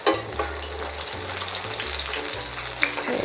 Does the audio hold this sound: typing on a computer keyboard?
no